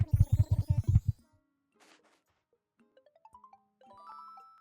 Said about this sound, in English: Oh, phone call.